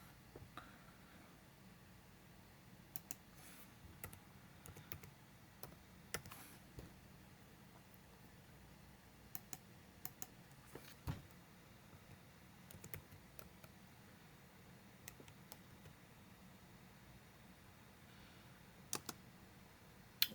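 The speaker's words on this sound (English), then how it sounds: "I'm just typing it in here." Typing on a computer keyboard: sparse, light key clicks in short scattered bursts over a quiet room background, close but faint.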